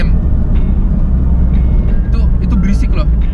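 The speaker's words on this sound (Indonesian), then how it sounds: "Asli berisik banget, gue jalan 60 gigi 4 2000 rpm" Noisy BMW E30 318i with the M40 engine cruising at 60 km/h in fourth gear around 2000 rpm, a steady low engine drone and road roar filling the cabin while someone talks over it.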